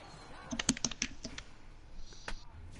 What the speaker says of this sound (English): was that a mouse and keyboard? I heard.